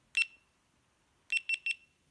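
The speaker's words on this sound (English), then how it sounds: "And you hear those 3 beeps." A GoPro camera gives one sharp electronic beep, then after a pause three quick beeps in a row as recording stops, close and clear against a quiet background.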